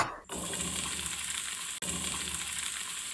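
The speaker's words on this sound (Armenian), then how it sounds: "Տապակվել է բանջարեղենները" Vegetables sizzle in a hot frying pan while a beef salad is being prepared, a steady close crackle with a brief sharp clink partway through.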